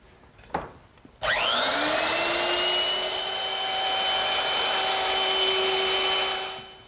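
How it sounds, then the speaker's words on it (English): A router fitted with a quarter-inch bit eases the wood edges of a hearth side settle. After a few faint knocks it spins up into a loud, steady high whine that holds evenly, with no talk, then cuts off at the end. "I'm just going to use my router."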